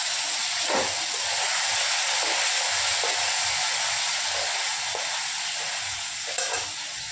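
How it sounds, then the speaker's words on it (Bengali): Paneer frying in hot oil, giving a steady, dense sizzle that runs throughout, close and fairly loud, with faint stirring clicks underneath. "পনিরটা যে তেলে দিয়েছি সে চলবস করছে।"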